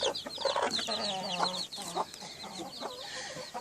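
Hens with their chicks cluck on a homestead, with soft low clucks mixed with a busy chorus of high peeping chick calls, close and continuous throughout.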